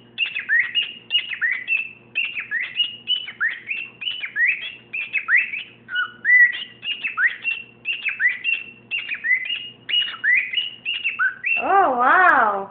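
A pet bird chirps and whistles in a fast, steady run of bright, clear notes, close and loud. Near the end a person's voice breaks in briefly.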